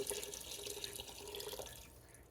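Water poured from a tap into a soup pot of vegetables for potato leek soup, a continuous splashing trickle under a steady flow that tapers off near the end, fairly faint and close, no talking.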